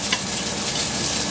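Chopped green onion hits a hot pan while cooking soy sauce braised yellow croaker, giving a steady, dense sizzle that holds at an even level throughout with no voices.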